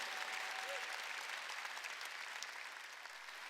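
A church congregation at a Korean Wednesday worship service applauds, producing soft, even crowd clapping that holds steady throughout, heard at a distance and fairly faint.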